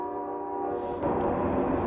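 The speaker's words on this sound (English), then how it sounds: "I just love hearing that train." A train on railroad tracks heard from a hunting stand in a Kansas field blows a sustained tonal horn, then a louder rumbling wash of passing cars builds in, moderately distant and without any talking.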